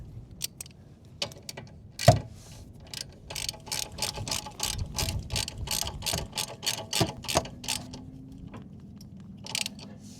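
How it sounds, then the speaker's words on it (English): A hand ratchet clicks in quick repeated strokes while tightening 19 mm strut nuts on a 1998–2002 Toyota Corolla, with close, crisp pawl ticks in steady bursts and brief pauses between runs. "Tighten down these 19s."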